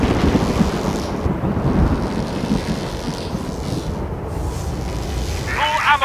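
A thunderstorm with lightning in the flying video game The Falconeer: a loud, continuous rumbling roar of wind and storm that stays fairly even throughout, with a brief higher flutter near the end.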